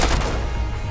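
A single sharp gunshot cracks out during a Rainbow Six Siege team deathmatch on the Oregon map, loud and close, with a short decaying tail and no talk over it.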